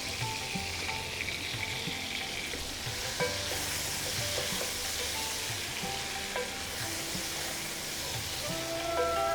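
Tomato and dried red chillies fry in a pan while being stirred. The soft, steady sizzle lies under the quick scrapes and clinks of a utensil against the pan, heard close with no talk.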